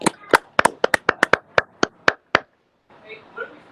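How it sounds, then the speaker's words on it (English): A small audience claps for a senior thesis defense: a couple of seconds of sparse, sharp, individual hand claps that stop abruptly, followed by a voice starting to talk. "Let's give a big round of applause to Miles."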